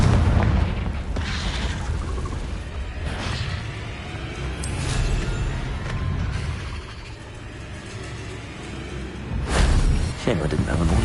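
Confringo spell blasts in a Harry Potter wizarding video game: booming explosions with rumbling bursts, a strong hit at the start and another near the end, amid game sound and a speaking voice.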